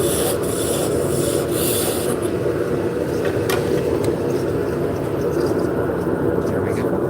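A spindle held steady is cut off near its bottom end with a loud, continuous rasping and grinding that runs unbroken, with brief sharper scrapes near the start.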